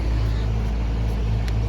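An outdoor HVAC air conditioner unit buzzing: a loud, steady low electrical hum with a strong droning tone, close by and continuous, with no voices.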